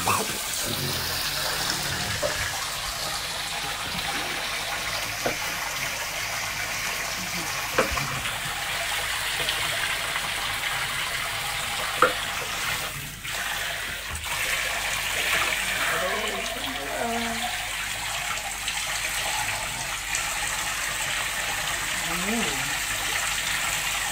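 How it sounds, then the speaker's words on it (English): Water runs steadily from a shower hose while a French Bulldog is bathed, a continuous splashing wash that lasts throughout, with voices talking over it and the dog making brief noises. "The French Bulldog is getting a bath, and I want to laugh because he's getting wet,"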